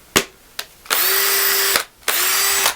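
A cordless drill powered by a 20-volt 3Ah power core battery gives two short blips, then runs at a steady whine for about a second, stops, and runs again. Loud and close, with no talk.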